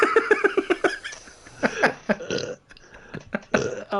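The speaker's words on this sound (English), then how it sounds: "every time I laugh this hard, I need to burp." A loud, drawn-out burp follows a burst of hard laughter, with short rhythmic laugh bursts at first, then a long croaking belch that trails off, mixed with a few more giggles, all from one person while playing a power-washing simulator game.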